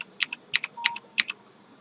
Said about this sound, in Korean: 키보드 G를 눌러서